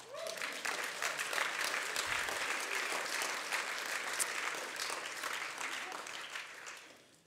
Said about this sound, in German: Ich bin so begeistert, dem Jesus könnte man Applaus geben.